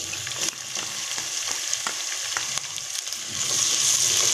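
Ginger and garlic fry in a pan with browned onions, cumin and chilies, a steady close sizzle broken by light scraping stir strokes, with no talking.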